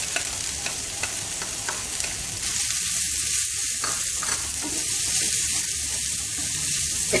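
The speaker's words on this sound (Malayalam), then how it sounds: "വെളിച്ചെണ്ണ ഒഴിച്ചതിന് ശേഷം ഇഞ്ചിയും വെളുത്തുള്ളിയും കൂടി ഒന്ന് ഫ്രൈ ചെയ്തെടുക്കാം." Ginger and garlic fry in coconut oil with a steady close sizzle and a few light stirring clinks, and no talk.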